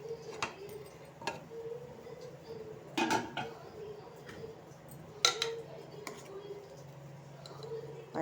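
Pressure cooker opened after cooling with its weight removed, then the pot handled while green gram kurma cooks: scattered metallic clanks and taps, with a few louder knocks, over a low steady hum.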